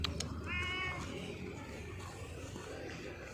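A pet cat meows once near the start, a short clear call followed by quiet room noise and faint rustling, with no talking.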